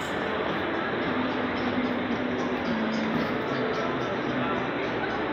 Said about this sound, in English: It's a big train station